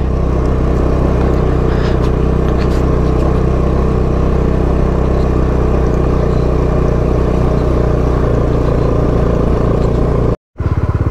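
Motorbike engine carrying riders along an icy, black-ice mountain pass road near Bumla Pass in Tawang, Arunachal Pradesh, a steady close drone with slight rattling, cut by a brief dropout near the end.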